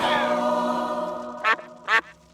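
A duck quacking in a Simpsons cartoon scene: two short, loud quacks near the end, each standing out over a sustained tonal musical background.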